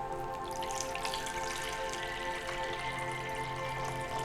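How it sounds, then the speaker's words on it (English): Water is poured into a bowl, giving a steady trickling, splashing flow that runs throughout, with faint dripping and a low hum in the background and no one speaking. "I'm going to pour some water into the bowl."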